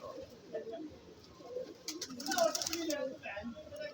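Punjabi pigeons, including a dyed Lalsara Cheena, cooing close by in soft repeated throaty calls while someone talks over them.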